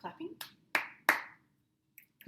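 Hand claps used as body percussion ring out as a few sharp, separate smacks, close and bright, between brief bits of a voice.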